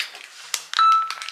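A mobile phone rings or chimes with a sustained electronic tone and a few pinging notes, close by amid rustling of groceries and packaging.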